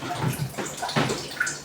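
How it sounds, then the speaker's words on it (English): Pishori rice being washed by hand in a bowl of water, with soft sloshing and swirling splashes in short bursts, close up and fairly quiet. "Let me wash it to give it time to dry."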